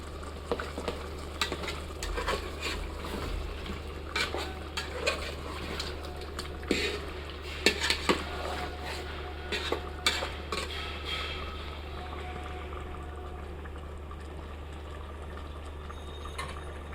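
Chicken being stirred in a pot for biryani, with tomato sauce and green chili mixed in, in a home kitchen in Dhaka; soft scraping and occasional clinks recur over a low steady hum, fairly quiet throughout.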